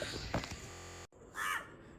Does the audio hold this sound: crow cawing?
yes